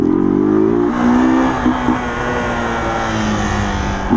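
A motorcycle with no working brakes revs hard, its loud, close engine note rising and holding steady as it runs.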